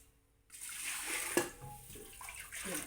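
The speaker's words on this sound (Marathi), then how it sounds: "हे कुकरमध्ये गरम पाणी टाकते मी" Hot water pours steadily into a pressure cooker after a brief quiet start, a close continuous splashing with a small clank partway through.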